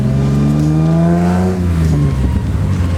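BMW E30 with a worn, burnt clutch, its engine revving up and then easing off loudly and close by, a steady mechanical drone with rising pitch, no voices.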